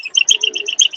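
Rhythmic high-pitched squeaking from an old, well-used sewing machine repeats rapidly in a steady cycle, like a worn mechanism, with a faint low mechanical hum underneath.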